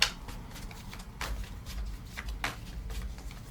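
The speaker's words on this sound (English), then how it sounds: "so I'm going to shuffle again." An oracle card deck is shuffled by hand, soft, close riffles and swishes coming in several short bursts against quiet background.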